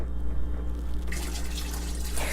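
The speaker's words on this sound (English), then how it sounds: "I'm gonna take my tube, connect it back up here, and I'm gonna dump this water." Water pours and splashes out through the drain tube of a mini portable washer, a steady rushing flow over a low motor-like hum, growing brighter and splashier partway through.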